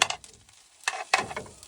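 Food scraped out of a RidgeMonkey pan into a bowl, a few short, sharp scraping and clattering strokes close by, with quiet gaps between them.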